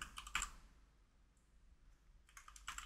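Typing on a computer keyboard: a short burst of clicks at the start and another cluster near the end, separated by a quiet pause, close and fairly soft.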